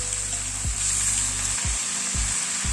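Vegetables with salt and turmeric fry in a pan for a Bengali Malabar spinach and fish-head dish, a steady close sizzle broken by several low scraping stirs.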